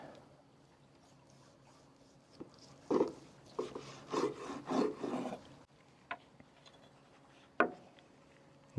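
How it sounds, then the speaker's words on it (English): A knife saws through a smoked pork loin cooked on a Pit Boss pellet grill, giving several close, soft rasping strokes against a board, with a few isolated taps and scrapes afterward, and no voices. "I'm gonna go ahead and cut a slice here."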